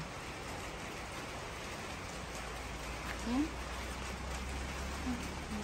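Light rain falls outdoors in a rural province setting, a soft, even patter and hiss at low volume, with a brief voice speaking underneath.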